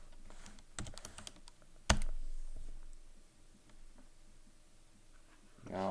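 A few quick keystrokes on a computer keyboard as a command is typed, sparse clicks and taps with one sharper knock, quiet and close in a still room, no talk.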